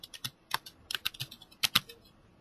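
Fingers tap out a password on a computer keyboard, a short run of about a dozen crisp, uneven key clicks heard up close in an otherwise quiet room.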